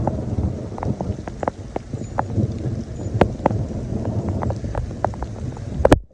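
Heavy rain pours steadily outdoors during a thunderstorm, with gusty wind buffeting the microphone and scattered sharp drips and knocks, ending in a louder close crack.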